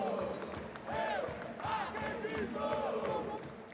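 A large arena crowd at the IEM Rio Major 2022 Counter-Strike match between FURIA and BIG on Vertigo roars and shouts in sustained waves, with rising chant-like cries over a constant wash of noise.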